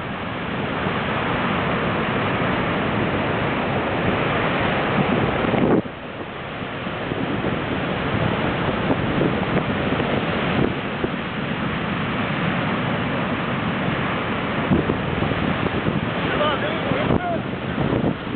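Sea waves break and surge along the Bulgarian coast in February under strong wind, a continuous loud roar with heavy wind buffeting the microphone and a brief lull partway through.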